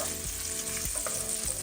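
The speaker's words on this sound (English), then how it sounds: "Add all your bacon to a pan on medium heat, and I'm gonna cook this until crispy." Thick cut bacon frying in a pan over medium heat, a steady close hiss and crackle with a few soft pops and stirring scrapes, no voices.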